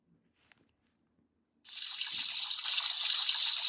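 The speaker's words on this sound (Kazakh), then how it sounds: "Бір душқа түсіп алайыншы" A shower switches on in the Roblox game Brookhaven: after a near-silent start with a couple of soft clicks, a steady, bright hiss of running water rises abruptly and keeps flowing evenly to the end.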